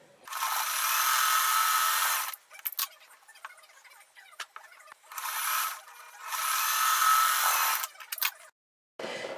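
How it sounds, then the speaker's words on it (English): A sewing machine stitches quilt block pieces together in two sustained bursts of steady mechanical whirring, separated by quieter handling noises and clicks, close by with no speech. "Now I'm going to sew these three pieces together, right here."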